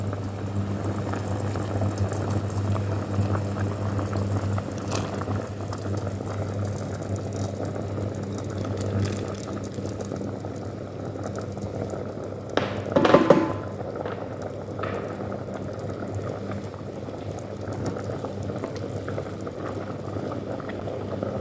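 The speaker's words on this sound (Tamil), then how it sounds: "நாங்கள் அந்த உருண்டைகளையும் நாங்கள் இதுக்குள்ளே போடுவோம் அவிகிறதுக்காக" Rice flour balls simmer in a pot of Jaffna-style Aadi koozh, with a steady bubbling boil and a low hum throughout, plus a brief louder splash or clatter midway.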